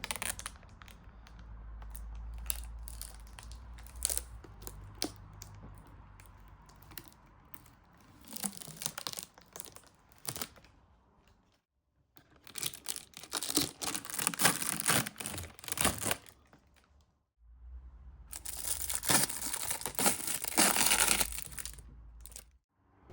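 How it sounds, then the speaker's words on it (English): Protective film is peeled off the shiny black plastic body of a new pressure washer in bursts of crackling, tearing rustle, loud and close, separated by quieter pauses and light handling. "that satisfying sound made when you remove the protective film from a shiny surface"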